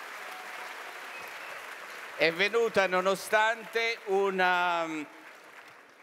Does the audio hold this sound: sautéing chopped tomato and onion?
no